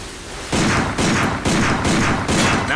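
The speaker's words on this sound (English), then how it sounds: "Take out your handgun and try shooting that sign." Handgun shots fired at a sign in the video game Binary Domain: five sharp, loud reports spaced roughly half a second apart, each with a short reverberant tail, and no talking over them.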